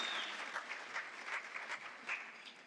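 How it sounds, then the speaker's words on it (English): Applause from the audience at a Making Strides Against Breast Cancer kickoff party: a soft, somewhat distant crowd clapping steadily throughout, with individual claps occasionally standing out. "A big round of applause for all of them for being here tonight"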